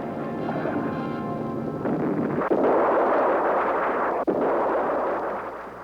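An airborne TOW missile strike in combat, a loud sustained roaring blast with a rough, broad rumble that swells and holds, broken by two sharp cracks.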